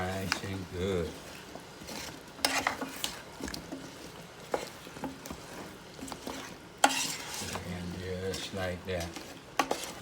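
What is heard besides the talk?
stirring candied yams cooking in a Power XL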